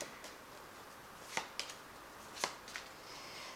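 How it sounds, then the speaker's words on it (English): A Fairy Tarot deck is cut and three cards are drawn, giving soft, close card riffles and a few crisp snaps of card edges over a quiet room hiss. "let's just cut this deck and draw 3 cards."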